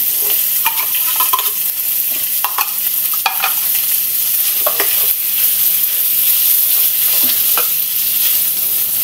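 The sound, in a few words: corned beef frying in a pan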